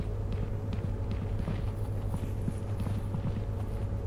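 Footsteps in the video game Content Warning: a steady run of rapid, thudding steps over a constant low hum, continuing evenly for about four seconds with no speech.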